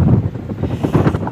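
Heavy wind hits the microphone outdoors in chilly Shimla, a loud, steady low roar with uneven gusty pulses and no voices over it.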